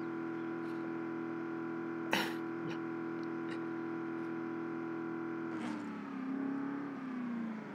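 A car engine in Project Zomboid labouring at steady high revs with a constant droning whine, a brief clunk partway through, then the pitch sags and wavers as it struggles.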